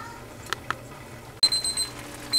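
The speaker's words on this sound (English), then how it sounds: "Alright, timer went off." A kitchen timer goes off during the boiling of dried pinto beans for canning, a sudden electronic beeping that rings out in quick pulses after a couple of soft clicks in a quiet room.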